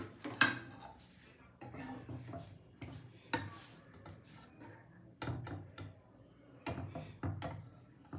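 Soft pabda fish curry in mustard paste being served onto a plate with a spoon: a handful of light clinks and scrapes of spoon on dish spaced through a quiet kitchen, close and fairly faint, with no talk.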